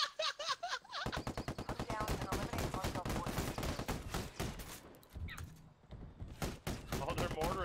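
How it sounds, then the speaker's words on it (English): Rapid, continuous automatic gunfire and booming blasts from a Ghost Recon Wildlands battle where mortars are being fired, dense and loud throughout with a brief lull near the end. "Oh, they're mortaring each other."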